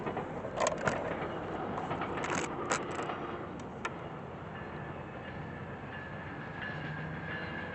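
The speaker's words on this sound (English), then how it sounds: "Sorry, there's a train right now." A train rumbles past steadily at moderate distance, a continuous rolling roar with a few sharp clicks and clacks early on, holding level throughout.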